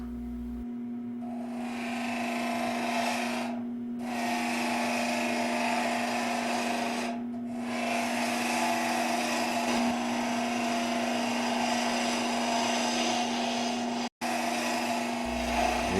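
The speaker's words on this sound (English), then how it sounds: "Using the fingernail gouge, as you can see, to roll that radius." A woodturning lathe spins a wooden capsule box blank while a fingernail gouge shapes its radius, giving a steady motor hum under a continuous scraping hiss that drops out briefly twice as the cut pauses.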